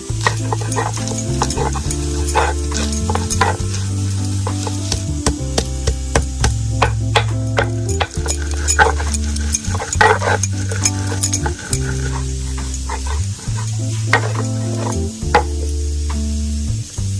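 Chutney crushed and ground by hand on a stone grinding slab, a steady run of close scraping, knocking strokes that carries on without a break and without any voices.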